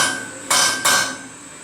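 Two sharp, ringing hammer blows strike metal laid on pieces of RSJ steel beam used in place of an anvil. The blows come close together, loud and near, with no talk.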